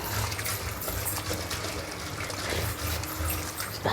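Water poured off a cooked tomato dish, a continuous close trickle and splash of liquid with faint clinks, steady throughout with no voices.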